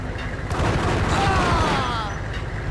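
Rapid gunfire from the PS2 version of Max Payne, a dense, loud run of shots and booms blending over a low rumble for about three seconds, with sweeping tonal effects mixed in and a voice faintly present underneath.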